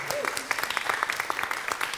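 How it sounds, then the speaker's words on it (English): Audience applause for Eugene Hernandez at a Silverdocs evening event: a faint, brief patter of many hands clapping, somewhat distant and soft throughout. "Eugene Hernandez, everyone. Give him a big round of applause."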